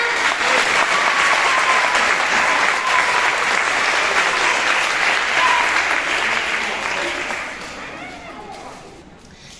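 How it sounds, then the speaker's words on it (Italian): Sustained applause from an audience at an end-of-year primary school show in Naples, a dense wash of many hands clapping that stays strong, then thins and fades in the last couple of seconds. "Facciamo un applauso a Lina."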